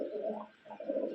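A pigeon of a running pair, its hen an orange-tinged light biscuit colour, gives a soft, close coo in two short phrases with a brief pause between.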